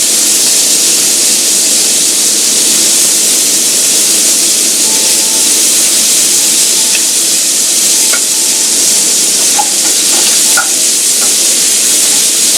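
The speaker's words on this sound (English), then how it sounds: "we're going to saute and reduce the wine in the pan after we cook the beef" Ginger, garlic and beef sauté in a pan while wine reduces, a loud, steady sizzle and hiss up close that runs the whole way, broken by faint stirring clicks.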